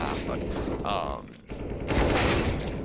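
Rapid automatic gunfire from a CS:GO recoil-practice map, with AK, M4A1-S, MP9 and MAC-10 weapons, fired in dense sustained bursts with a short pause midway, loud and close.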